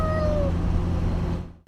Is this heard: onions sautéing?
no